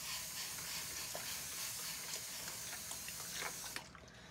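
Water runs steadily from a tap for cleaning, a continuous close hiss that stops sharply near the end.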